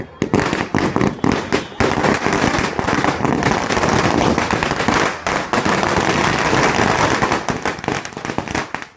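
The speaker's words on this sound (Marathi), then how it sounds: "नुसत्या फटाक्या फोडल्या आणि मग बापरे एकदम भारी" Firecrackers burst during a Ganesh immersion procession, a loud, dense, continuous crackling barrage of rapid pops close by.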